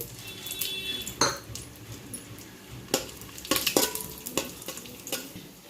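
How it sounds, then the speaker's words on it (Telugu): Dry fruits frying in hot ghee for Punjabi-style rice kheer, with stirring scrapes and clinks of a spoon against the pan over a low sizzle, in repeated short bursts close by. "నెయ్యి కాస్త వేడైన తర్వాత డ్రై ఫ్రూట్స్ వేసి ఫ్రై చేసుకోవాలి"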